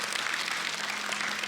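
Applause from a church congregation during an Easter sermon, a steady, dense wash of clapping that holds evenly from start to finish.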